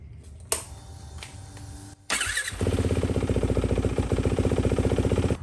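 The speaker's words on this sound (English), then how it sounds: "Now it says to fire up the bike and let it run for several minutes." A Yamaha WR450F dirt bike starts after a few clicks and settles into a steady, rapid-pulsing single-cylinder idle, loud and close.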